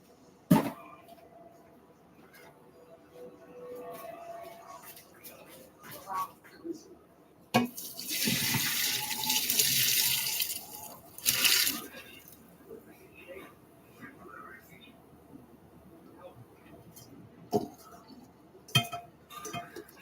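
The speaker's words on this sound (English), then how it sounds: "So I can drain the spaghetti." Cooked spaghetti drains in a kitchen sink, with a burst of rushing water lasting a few seconds amid scattered clinks of glass and metal, and speech nearby.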